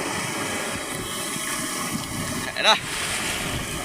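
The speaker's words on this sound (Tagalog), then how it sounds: "Malakas po dito yung alon saka mahangin." Strong wind and choppy sea waves roar steadily around a small boat in open water, a dense continuous rush with a brief louder gust, and a short spoken phrase partway through.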